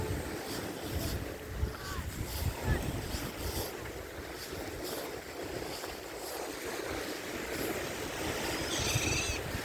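Low rumbling surf and gusty wind buffeting the microphone at Lanzheron beach in Odesa, a steady roar rising slightly toward the end, with no voices.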